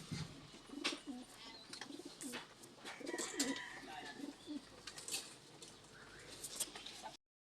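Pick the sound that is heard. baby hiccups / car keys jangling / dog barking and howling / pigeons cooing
pigeons cooing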